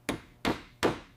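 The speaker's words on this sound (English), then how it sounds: "Using a brass drift and a dead blow hammer, careful, forceful blows are applied to the magazine base." A dead blow hammer drives a brass drift against the rusted magazine base of a 1927 TT pistol, three dull, firm thuds spaced about 0.4 seconds apart, close and fairly quiet.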